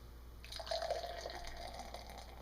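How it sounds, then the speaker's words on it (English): Beer pours steadily into a glass, starting with a splash and settling into a soft, fizzy gurgle from heavy carbonation, quiet and close with no talking. "I'm going to give it a good pour."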